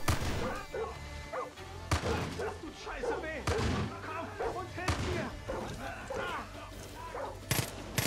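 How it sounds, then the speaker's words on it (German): Grenade explosions and gunfire in Far Cry 5 during a hostage rescue in Holland Valley, several loud booming blasts and thuds scattered through, mixed with game dialogue and voices talking throughout. "Ja, die haben Granate geworfen"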